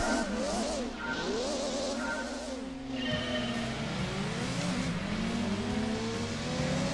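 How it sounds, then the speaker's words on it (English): A Corvette's engine in the racing game Gran Turismo 2 revs loudly and continuously, its pitch sweeping up and down through the gears in a high, strained whine with no talking. "And this thing sounds like a F1 car wannabe, honestly."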